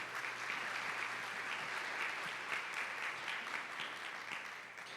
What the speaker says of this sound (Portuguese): queria que vocês dessem uma salva de palmas